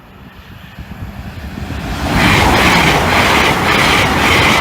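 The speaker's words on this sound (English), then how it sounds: "pair of Vintage City Express passengers, IEPs or 800s" Intercity Express class 800 passenger trains pass a level crossing with a rising roar, loud and close, the wheels clattering rhythmically over the rails as the carriages rush by.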